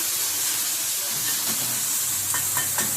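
Onion and tomato sautéing in a pan hiss with a dense, continuous sizzle, close and steady, with a few soft stirring scrapes near the end.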